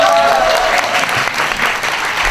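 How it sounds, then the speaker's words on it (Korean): Audience applause at a public podcast recording, a steady wash of many hands clapping at close range that fills the room for a couple of seconds, with faint voices mixed underneath. "최성진 기자님도 박수 한번 해주세요."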